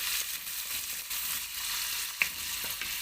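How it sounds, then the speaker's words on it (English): Onion frying in oil with cumin gives a steady, close hiss and sizzle throughout, with a single small pop or click partway through and no voices. "I'm going to put in the onion there and try to fry the onion for some time"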